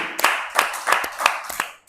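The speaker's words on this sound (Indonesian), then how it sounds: "Boleh kasih tepuk tangan sekali lagi untuk Teh Desi." A handful of sharp, close claps in an uneven rhythm, about six distinct hand claps with brief gaps, ending abruptly.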